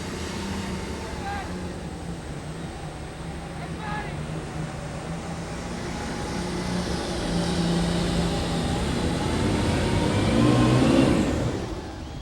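A 7,500-pound super stock International tractor pulls at a farm machinery show, its engine droning steadily and then building to a louder roar near the end before dropping off, with a voice over a loudspeaker in the background.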